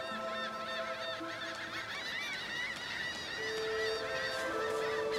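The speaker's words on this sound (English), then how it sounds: "Those are some very loud and obnoxious seagulls" Loud, obnoxious seagulls squawking in Divinity: Original Sin II, with repeated raucous calls overlapping one another against a steady ambient bed for several seconds.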